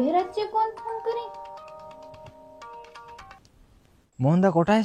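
A telephone ringtone plays at night in a home, a steady electronic ring of sustained tones running for a few seconds under quiet background, bracketed by talking at the start and end.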